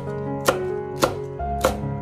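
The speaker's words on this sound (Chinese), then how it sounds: "取出来以后再切成小段，再改刀把它切成丝就可以了" Three sharp knife strokes on a cutting board as a green pepper is cut into strips, spaced about half a second apart, close and distinct over a faint background hum.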